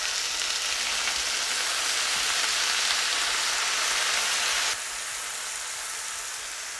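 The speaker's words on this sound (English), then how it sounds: "it's time to add the Timothy Tamathy Slamathy beer" Beer poured into a hot stew pan over cooked vegetables hisses and sizzles in a steady, dense wash that drops abruptly to a quieter sizzle near the end.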